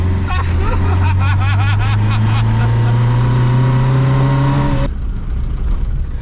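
A car engine drones and rises in pitch as it strains under acceleration, then drops off suddenly, with voices faintly audible at the start.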